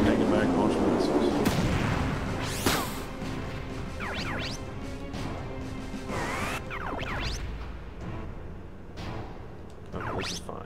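Missiles launch and explode in the Front Mission 3 video game, with repeated whooshing launches and heavy booming blasts that crowd one another throughout at high volume.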